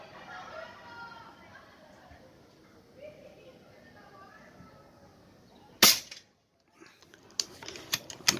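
A MkII air rifle fires its fifth shot in an accuracy test: one sharp, loud crack stands out after a stretch of quiet background murmur, followed by a few fainter clicks and taps.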